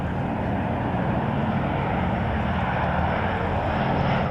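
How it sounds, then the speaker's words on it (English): Vintage propeller aircraft at the Duxford air show give off a loud, continuous droning engine roar that holds steady for the whole few seconds, with no voices over it. "It's fair to say there won't be a shortage of vintage planes, including the B-17 Flying Fortress,"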